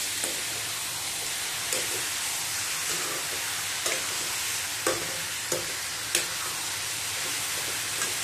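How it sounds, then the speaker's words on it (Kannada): Chicken pieces fry in a pan with onion and tomato, giving a constant close sizzle broken every second or so by soft scraping stirs and light clicks of a utensil. "ಈರುಳ್ಳಿ ಮತ್ತು ಟೊಮೆಟೊ ಫ್ರೈ ಆದಮೇಲೆ ನಾನು ಆಗಲೇ ಇಟ್ಟಂಥ ಚಿಕನನ್ನು ಹಾಕ್ಕೊಂಡೆ. ಇದನ್ನು ಸ್ವಲ್ಪ ಈಗ ಫ್ರೈ ಮಾಡಬೇಕು"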